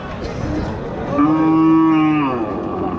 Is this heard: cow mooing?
yes